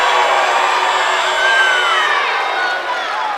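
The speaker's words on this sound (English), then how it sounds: "Penobscot Valley crowd didn't like that call." A Penobscot Valley crowd at a girls basketball semifinal reacts to a referee's out-of-bounds call, a steady, dense roar of voices and shouts that carries evenly throughout at moderate loudness.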